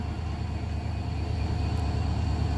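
Kurigram Express train pulling away again after an emergency brake stop and loss of air pressure: a low, steady rumble that builds slightly, heard alone.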